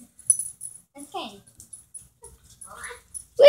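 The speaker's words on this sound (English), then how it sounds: "She's puppy. Sniffing around." A small dog whimpers and yips softly in a few short, high-pitched bursts amid quiet rustling, ending with a louder whine.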